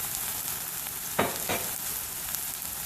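Turkey burgers sizzle in a hot pan with a steady, close, bright hiss, broken by two short louder bursts near the middle; no one talks.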